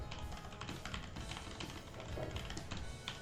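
Rapid clicking of Logitech POP Keys mechanical keyboard keys, a continuous irregular patter of taps, close and fairly crisp, with no talking.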